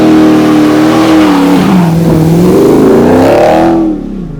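Cammed Dodge Charger RT with a 5.7 V8, long tube headers and a 3-inch MagnaFlow catback exhaust revs hard and close, pitch climbing and dipping in a loud, throaty sweep before cutting off abruptly.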